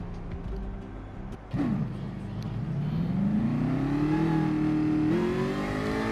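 A Jaguar race car engine accelerating in a racing simulator, a steady mid-pitched drone that rises smoothly in pitch through the gears, loud and continuous.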